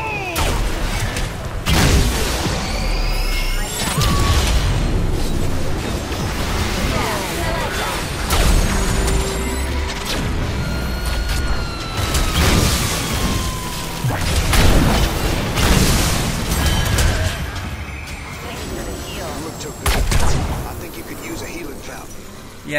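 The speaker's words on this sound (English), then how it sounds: "Oh, cannons!" Booming cannon blasts and explosions in a busy Heroes of the Storm match soundscape, with whooshes and mechanical clatter, repeated bursts throughout.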